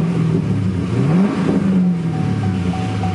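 A 2010 Chevrolet Camaro 2SS RS with a cat-back exhaust revs up and settles back, a deep throaty exhaust rumble rising and falling close by, with a faint whine over it.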